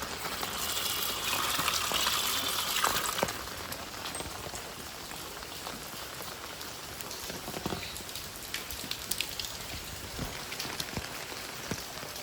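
Steady rain patters on a surface throughout, heavier in the first few seconds, then easing to a lighter continuous fall with scattered drips.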